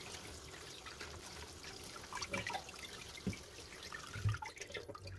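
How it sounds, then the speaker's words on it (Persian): Water is poured over fresh green peas in a colander, a faint continuous trickle with a few soft drips and splashes. "بعد توی آبکش میریزم و روش آب میریزم تا کاملا شسته بشه"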